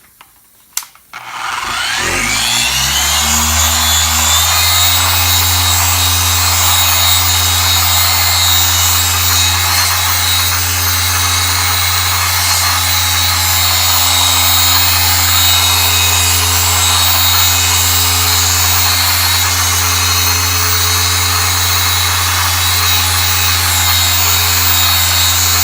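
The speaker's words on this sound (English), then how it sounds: "because I'm using a wool pad and a Rotary" A rotary polisher with a wool pad, spinning at speed 6 while running Carpro Clear Cut compound, whirs into a loud, steady, high-pitched motor drone after a brief start-up and holds constant throughout.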